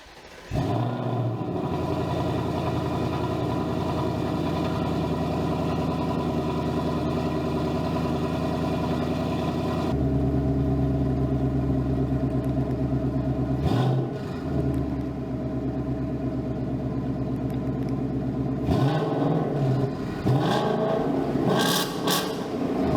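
A 2024 Mustang GT fitted with an Accelatec H pipe resonator delete idles with a deep, steady rumble, then rises in several loud revs that fall back to idle, heard close by without any talking.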